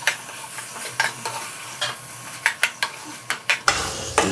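Beef keema with garam masala roasting in a pan, a steady sizzle broken by a series of sharp spatula scrapes and stirs against the metal, growing brisker toward the end, with no voices.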